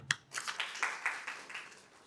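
An audience breaks into a brief burst of clapping, a dense patter of hands lasting about two seconds before fading.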